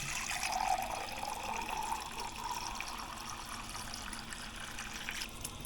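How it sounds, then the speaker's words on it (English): Water from a Waterdrop under-sink filtration system faucet runs steadily into a cup, a continuous close hiss and trickle with a slight rising fill tone, no talking. "Let's see how fast it fills up a cup."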